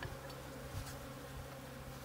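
Honey bees drone steadily around a hive being cut out of a rotten telephone pole during a rescue, a continuous close buzz with a faint hum underneath and no voices.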